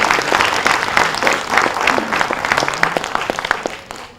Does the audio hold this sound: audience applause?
yes